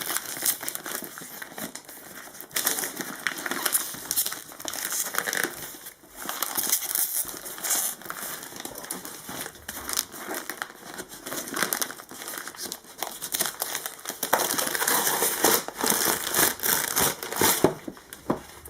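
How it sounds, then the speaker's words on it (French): Kraft paper wrapping is torn and crinkled off a parcel up close, a long series of loud rustles, rips and crackling crumples in irregular bursts, with no voices over it. "C'est enveloppé dans du papier craft. Je peux déchirer un petit peu quand même."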